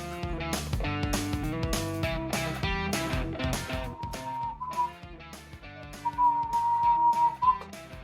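Someone whistles a short, wavering tune in two brief phrases over rhythmic background music.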